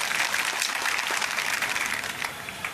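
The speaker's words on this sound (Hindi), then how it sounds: "जरा जोरदार तालियों से स्वागत करें" A crowd at a Congress party gathering in Orchha, Bundelkhand, bursts into dense, sustained applause that stays loud and even throughout, with no speech above it.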